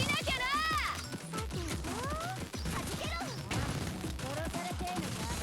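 Weapons fire in a Blue Archive battle: rapid cracks and bursts of gunfire mixed with game effects, running under steady talk for the whole stretch.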